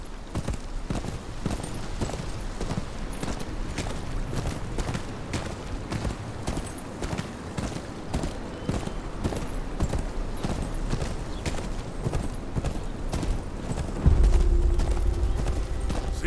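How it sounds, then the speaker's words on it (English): Steady clip-clop of horse hooves trotting in the video game Game of Thrones Kingsroad, at an even rhythm, with a low rumbling hum swelling near the end. "Where's your horse? Mount up and let's go."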